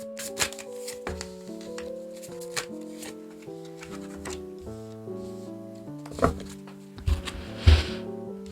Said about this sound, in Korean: 그럼 이 상대분에 대해서 좀 더 자세하게 카드를 뽑아보도록 할게요.